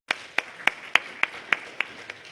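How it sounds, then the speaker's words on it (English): Audience at the Toorcon 2007 security conference claps sparsely, about eight separate sharp claps in an uneven rhythm, fairly close and alone with no voices. "So let's give a big round of applause for Rich."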